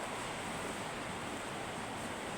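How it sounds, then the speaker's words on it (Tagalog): Heavy rain pours nonstop outdoors, a dense steady hiss of roaring downpour with no breaks or voices. "Tuloy-tuloy ang buhos ng ulan."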